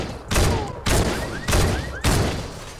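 Fortnite gunfire: four heavy, booming shots land roughly every half second, each loud and close with a long decaying tail, and a faint rising whine appears between them.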